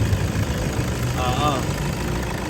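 A Toyota Fortuner engine idles with a weak clutch fan, a steady close mid-pitched hum and mechanical rattle under a brief voice speaking.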